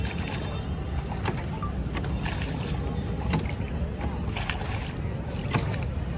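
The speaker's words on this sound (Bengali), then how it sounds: "নৈনিতাল আসলে এই নৈনিতাল লেকে কিন্তু বোট রাইড" A boat glides across Nainital lake with a steady low rumble of water and motion, and wind buffets the microphone throughout the short, continuous ride.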